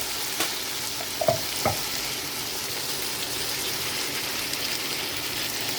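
Onions frying in a pan with garlic as tomatoes and chilies go in, a steady close hiss of sizzling oil with a few soft knocks and clatters of ingredients dropping in early, no talking.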